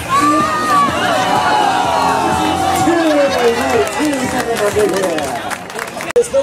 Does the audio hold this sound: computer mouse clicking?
no